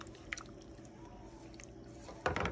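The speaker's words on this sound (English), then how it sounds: "now I'm going to go in with my pasta. And give that a stir" Pasta being stirred in a pot of oxtail rasta pasta sauce makes soft, wet squishing and sloshing sounds, close and quiet, with a louder burst of thick stirring at the end.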